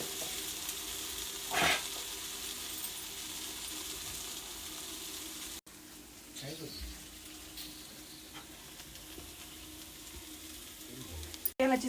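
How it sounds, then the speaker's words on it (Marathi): Food roasting in an oil-filled kadhai gives a soft, steady sizzle at low level, broken by a few clinks and stirring knocks. "असेच आपल्याला भाजून घ्यायचे सगळे."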